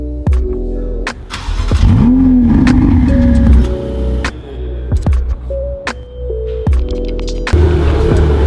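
A sports car with about 100 more horsepower than a Ferrari 458 revs its engine up close, rising and falling in loud bursts, with sharp clicks and a squealing whine through the middle of the run.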